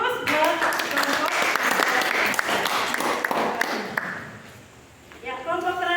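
A classroom group gives dense applause for a presenting student group. The clapping runs steadily for about four seconds, fades, and then a voice begins speaking.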